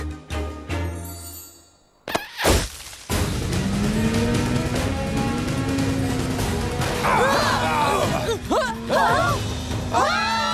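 Cartoon scooters drive up with a rising, whining motor hum that follows an abrupt crash and a pair of sharp thwacks, ending with squealing, screechy effects over the engine.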